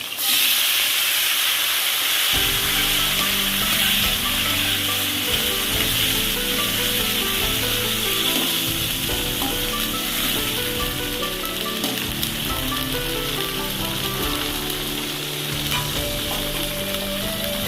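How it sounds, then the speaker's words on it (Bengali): Soaked chickpeas drop into hot oil, and a loud, dense sizzle and hiss bursts up, then crackles on steadily and evenly close by. "তারপরে ভিজানো ছোলাগুলো তেলের মধ্যে দিয়ে দেবো"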